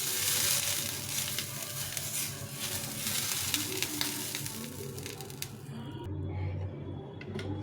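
Oil sizzles steadily in a hot pan before sattu chilla batter goes in, a dense close crackle that stays loud throughout and thins slightly near the end.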